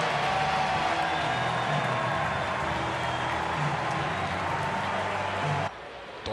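Crowd applause from a baseball game at T-Mobile Park, a dense, steady wash of clapping and crowd noise that drops off sharply near the end.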